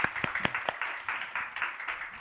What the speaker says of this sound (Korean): 우리 다음 세대 건강하게 자라도록 우리 축복 박수 한번 하시겠습니다.